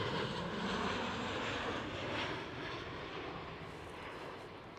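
A KLM SkyTeam Boeing 737-900 jet at Schiphol gives off a steady, broad engine roar that stays loud throughout and eases slightly toward the end, with no voices over it.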